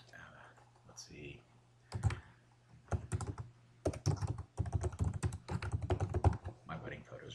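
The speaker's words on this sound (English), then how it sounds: "I'll type in something long here." Bursts of typing on a computer keyboard entering long button text in Xara, clicking keystrokes in quick clusters separated by pauses, close and fairly loud, with faint breathy sounds between.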